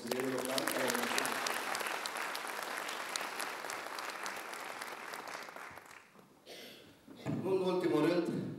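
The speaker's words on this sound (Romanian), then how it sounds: "aș vrea un rând de aplauze și pentru consilierii locali care au început" Attendees at a municipal party organization's general assembly in Bacău clap for local councillors. The applause is sustained and fades after about six seconds, then a voice speaks over the room.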